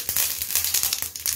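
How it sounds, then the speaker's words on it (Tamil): Mustard seeds spluttering in hot oil in a wide pan while making coconut chutney, a dense steady sizzle broken by rapid irregular pops and crackles, close and fairly loud. "கடுகு நல்லா பொரியணும்."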